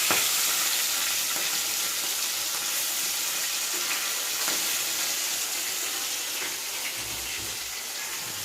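River puti fish sizzle and spit in hot oil in a pan, a dense, steady frying hiss that stays loud and close throughout with faint crackles and no talk.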